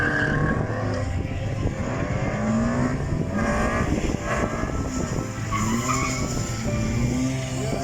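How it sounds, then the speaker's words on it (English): A car skids at a raceway, tires squealing in long wavering tones over a constant engine roar, loud and sustained throughout with no talking. "Oh look, he's skidding away."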